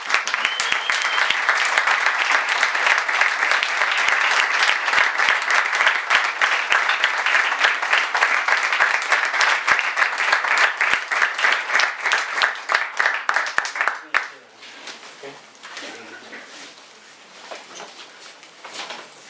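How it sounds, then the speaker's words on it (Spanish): Loud, sustained applause from a crowd for about fourteen seconds, then fading to a few scattered claps and murmurs. "despidámoslo con un aplauso"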